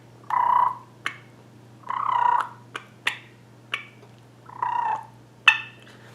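Voice imitating turkey calls with the lips: short purring rolls alternating with sharp smacking clucks, spaced irregularly across a few seconds, close and moderately loud, with no words spoken.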